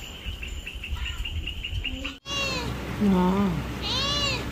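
A cat meows several times outdoors in Puerto Rico, loud and close, with insects chirping steadily in the background and a person briefly speaking.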